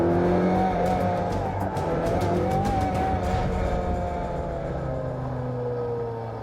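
Classic car at a Crystal Palace sprint event powering out of a bend under feathered throttle, its engine note loud and sustained with rising and falling pitch and brief tyre squeal, no talk.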